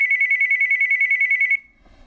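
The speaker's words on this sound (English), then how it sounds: "That's when the phone rang." A telephone rings loudly and close, a rapid trilling electronic bell pulsing evenly for about a second and a half before cutting off into near quiet.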